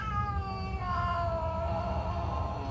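A house cat lets out one long, drawn-out meow that rises then slowly falls, close and clear over a faint low room hum.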